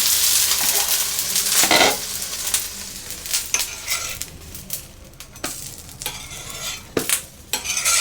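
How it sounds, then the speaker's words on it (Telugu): A moong dal uttapam fries in oil in a pan, giving a steady sizzle broken by several sharp scraping and stirring clatters as it is turned over; no one speaks. "ఒకసారి తిరగేస్తాను చక్కగా ఇటు కూడా ఫ్రై అయ్యిద్ది"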